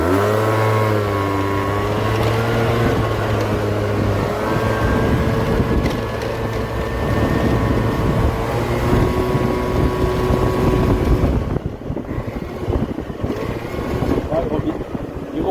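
A Peugeot Trekker scooter rides along and accelerates, its small engine droning loudly with rising and falling revs and steady wind buffeting throughout, then a rougher, gustier stretch near the end.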